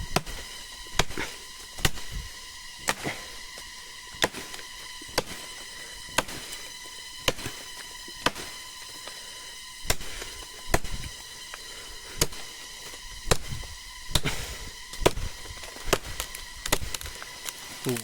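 An axe chops into a tree trunk outdoors, sharp woody blows landing at a slow, roughly regular rhythm, close and loud, many strikes one after another against a faint steady background hum.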